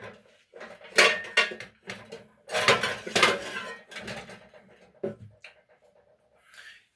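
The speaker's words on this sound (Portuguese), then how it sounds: "Um cara que está lavando louça." Dishes being washed by hand produce a run of clinks, clatters and scrapes of plates and cutlery, close and fairly loud, in uneven bursts with short pauses between.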